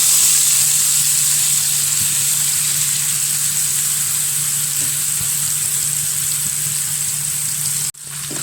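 Mushrooms fry in well-heated oil in a pan, making a loud, dense, continuous sizzle close by that runs without pause until it cuts off abruptly near the end, with no talking.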